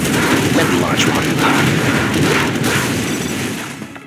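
Continuous heavy booms and rumbling blasts from artillery launches and explosions in the strategy game Generals Zero Hour, loud and dense throughout, with game unit voices mixed in.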